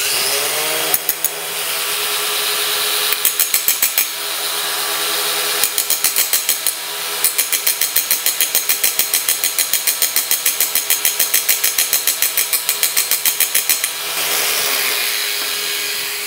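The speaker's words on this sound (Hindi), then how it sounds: "ग्राइंडिंग डिस्क मैंने इसमें लगाई हुई है ग्राइंडर में" An angle grinder fitted with a grinding disc, on a homemade meat mincer build, whines steadily at close range with a bright motor hum and rapid rattling pulses through most of the run, spinning up at the start and winding down near the end.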